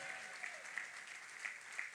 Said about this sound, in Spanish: un aplauso al Señor Jesús, un aplauso al Padre y un aplauso al Espíritu Santo.